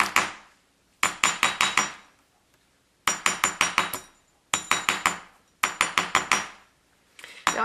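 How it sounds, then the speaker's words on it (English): A rawhide mallet strikes metal wire for a pendant, landing in quick bursts of four or five sharp, ringing taps separated by short pauses, close and clear without speech. "we're using a rawhide mallet, which is softer than the metal we are working on"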